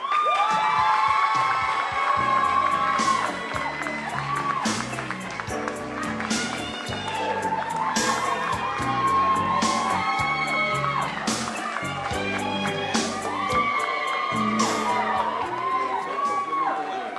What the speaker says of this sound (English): Round of applause for Clockwork.